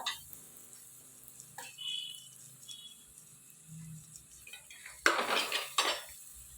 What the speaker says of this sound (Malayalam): ഇനി ഞാൻ ചെറിയുള്ളിയും പച്ചമുളകും ചേർക്കുവാണ്. ഇതൊന്ന് വഴന്ന് വരട്ടെ.